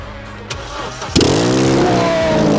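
A Corsa C track car with a new 4-to-1 catless exhaust manifold cranks briefly, then fires into a loud, raw idle with a rough burble that holds steady, close by.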